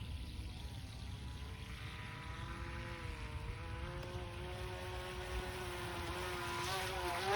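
Haiboxing HBX X03 RC speedboat motor running on water, a buzzing whine that rises and falls in pitch as the throttle and steering change, fairly faint and distant, growing louder toward the end.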